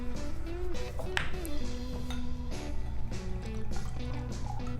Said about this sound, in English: So I'm trying not to be too heavy-handed with these pours.